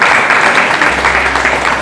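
A church congregation claps together during a Hindi sermon, a loud, close, continuous burst of many hands with no pause across the short stretch.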